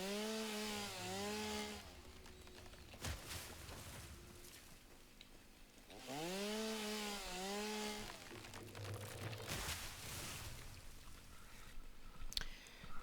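A chainsaw cuts down trees in the factory-building video game Satisfactory, revving in two long, loud bursts with whining pitch sweeps, separated by quieter gaps holding short clatters.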